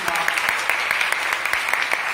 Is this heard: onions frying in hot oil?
no